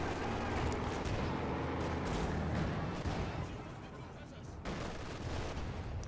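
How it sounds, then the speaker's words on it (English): A T-70 tank fires on grenadiers in a Company of Heroes 2 battle, scattered gunfire and booming shots over a dense, constant rumble of combat, fairly distant and muffled. "T-70 will begin opening fire on the Grenadiers."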